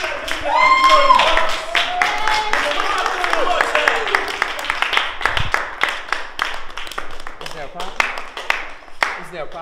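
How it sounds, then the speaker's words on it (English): Group of people clapping steadily as someone walks into an audition room, sharp repeated hand claps following some talking and shouting at the start. "When I walk in, we're gonna clap."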